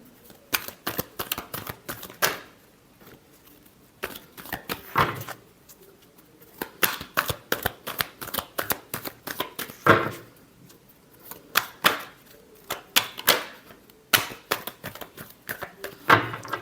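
Tarot cards are riffled and shuffled by hand in repeated quick bursts of crisp, close flapping and snapping, separated by short pauses.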